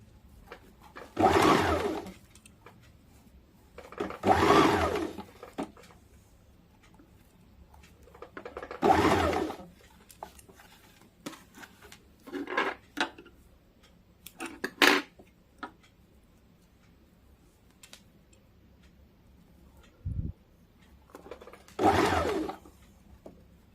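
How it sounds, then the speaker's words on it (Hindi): A sewing machine stitches around a round, boat-shaped blouse sleeve in several short whirring runs, separated by quiet pauses while the fabric is turned. "इसे इस प्रकार मोड़ के पूरा गोलाई में सिलाई डाल देंगे"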